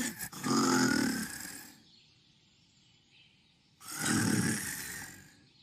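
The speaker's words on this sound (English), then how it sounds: "A snoring sound again." Snoring sound effect in a children's story, two long drawn-out snores separated by a quiet gap, each a rough, breathy rumble heard up close.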